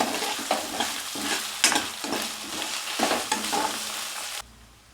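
Ginger-garlic paste sautéing in a pan for fenugreek-leaf pulao, a close sizzle broken by repeated scraping stirs in an uneven rhythm, with no talk, then dropping away abruptly near the end.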